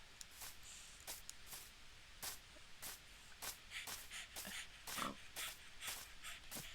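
A playful dog snorting and snuffling close by, with repeated short bursts of huffing breath and shuffling noises.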